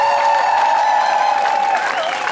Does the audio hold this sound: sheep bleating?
no